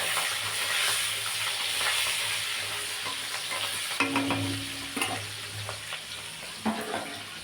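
Food frying in a pan in a home kitchen, a steady broadband sizzle with occasional stirring scrapes and clinks, close and moderately loud, with no talking.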